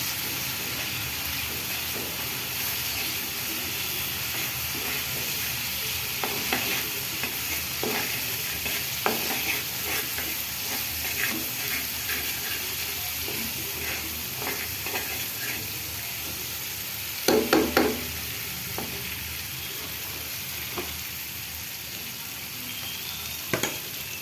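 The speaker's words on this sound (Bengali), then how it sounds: "ভালো মশলাটাকে কষাই নেব" Masala sizzles steadily as it is sautéed in a pan for a chickpea and boiled potato dish, with a spatula stirring and scraping in repeated strokes, close and unbroken by talk.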